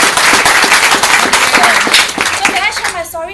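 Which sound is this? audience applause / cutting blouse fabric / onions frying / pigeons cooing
audience applause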